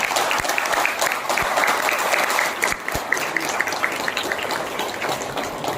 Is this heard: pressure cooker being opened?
no